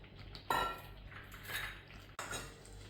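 Mutton pieces go into a cooking pot for butter mutton, with metallic clinks and a sharp clatter of utensil against the pot, then a second knock near the end, over a steady low background hum.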